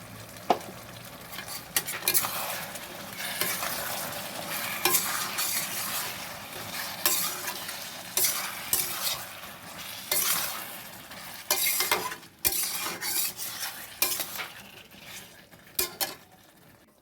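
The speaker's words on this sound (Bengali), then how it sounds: "এর মধ্যে আমি একটু টমেটো সস দিয়ে দেবো, টমেটো একটু পেস্ট করেছি, দিয়ে দিলাম একটু।" Tomato sauce and tomato paste are added to a hot pan and stirred, a steady sizzle running underneath continuous scraping and clinking of a spoon against the pan throughout.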